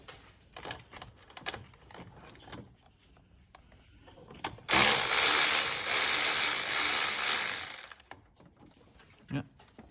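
Ratchet wrench working loose jubilee clips on a Nissan 370Z intercooler, brief clicks early on, then a loud steady burst of broadband noise lasting several seconds before fading back to quiet handling sounds.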